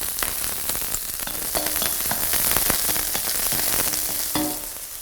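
Onions sizzle steadily in hot rapeseed and sesame oil for curried noodles, a dense close crackling hiss with stirring clicks and scrapes that swells midway, then eases slightly at the end.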